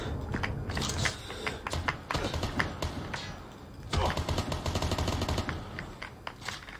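Rifle gunfire in Call of Duty Mobile, quick clustered bursts of sharp shots with a brief gap before another rapid volley, close and loud over faint game background.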